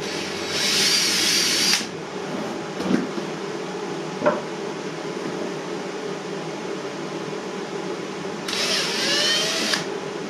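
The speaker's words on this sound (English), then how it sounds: "I got all 50 holes marked out, ready to be drilled out." A power drill bores rivet holes in an HDPE dust-collector cyclone: two close, loud whining bursts of about a second each, separated by quiet room hum with a couple of knocks.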